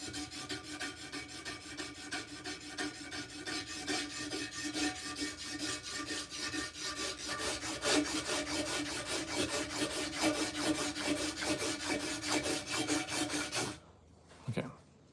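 Sandpaper rubs steadily back and forth in quick, even rasping strokes, loud and close, refining scratches on a surface, then stops abruptly near the end.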